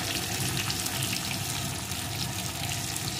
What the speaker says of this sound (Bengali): এখন কচুটা সুন্দর করে ভেজে নেব।